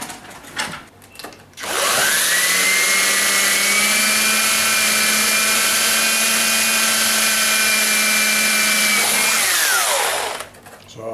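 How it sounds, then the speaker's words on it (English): An electric drill whirs loudly for about eight seconds, boring a hole in a fridge freezer, spinning up and winding down, with brief handling noises before and after. "let me just quickly drill a hole in there"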